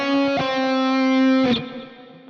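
Electric guitar solo enclosure, a short phrase of a few sustained, slightly distorted notes approaching a target C from below and then above, close and loud with no talking.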